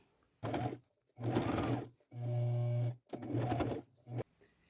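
Sewing machine running a zigzag stitch to attach neckties onto a jean jacket, three close bursts of steady whirring with short pauses between, loud and alone.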